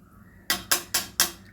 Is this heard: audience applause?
no